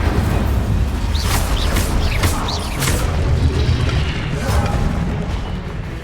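Incendio fire spells cast in Hogwarts Legacy on PS5 produce repeated deep booms and fiery bursts with whooshing, rising magical swishes layered over continuous rumbling combat noise.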